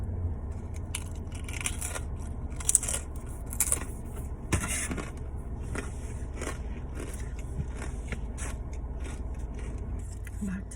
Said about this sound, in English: I love the crunch on these.